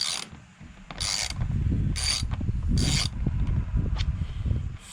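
Ratchet with a small extension turning a stubborn screw: repeated close, loud bursts of clicking pawl action in a rough rhythm of about one stroke per second, with no speech.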